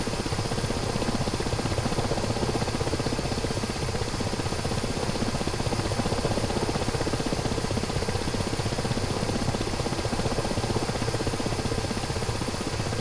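Steady, loud helicopter rotor and engine drone in a flight simulator video game, continuous and unchanging throughout, with no voices.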